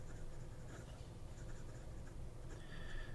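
A Hongdian fountain pen with a wet, broad-writing nib scratches softly across paper in short continuous strokes, faint and close, with a light hiss under the strokes and no voices.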